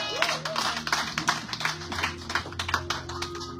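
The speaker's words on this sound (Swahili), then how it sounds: "Yesu makofi" A church congregation claps for Jesus during a main service, sharp irregular hand claps building into a rapid, uneven patter over a sustained musical drone.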